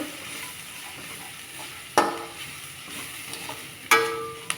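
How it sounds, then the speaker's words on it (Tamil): Bitter gourd is being sautéed with spice powders in a pan, with a soft steady sizzle and two sharp scraping stirs of a spoon against the pan, no talking. "இப்போ இந்த மசாலாலாம் சேர்த்து வதக்கலாம்"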